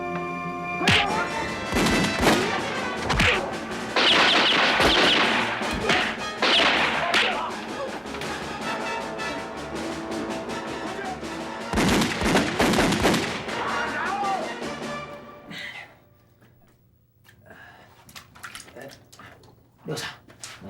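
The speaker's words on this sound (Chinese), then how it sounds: "开枪啊！" Gunshots ring out in a Taiwanese TV drama, several sharp loud cracks in bursts amid shouting voices and a dramatic score, with the scene quieting toward the end.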